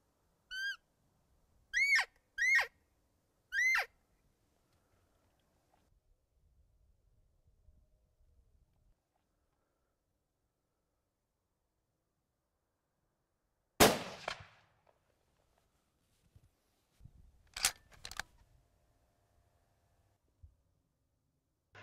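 A single loud, sharp rifle shot at a roe buck during a rut hunt rings out in quiet open country, followed by faint rustling and a few softer mechanical clicks, after some distant bird calls earlier on.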